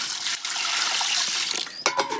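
Water poured into a container of jaggery to make jaggery water for a cow on a farm, a steady close splashing stream that stops briefly near the end.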